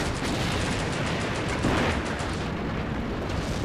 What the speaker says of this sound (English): Just torrent of explosions on both sides, but mostly ours because the German artillery